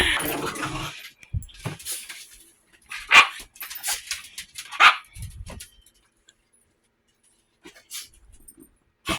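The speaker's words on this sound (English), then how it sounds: "The dogs are going crazy right now." Dogs bark in excited bursts, with sharp barks and higher yips close by, broken by short quiet gaps and ending in a few scattered barks.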